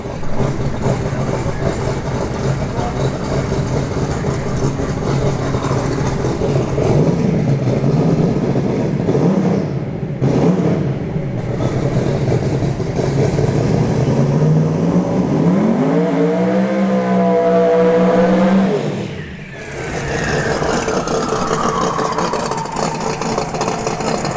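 A Camaro drag racing car rumbles loudly at a drag strip, then launches with a roaring acceleration that climbs steeply in pitch before cutting off, followed by another engine fading in the distance.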